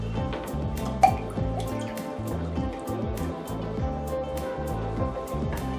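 Fresh squeezed orange juice is poured into a container, a soft gurgling trickle with dripping and splashing, close and quiet, steady for several seconds with no speech.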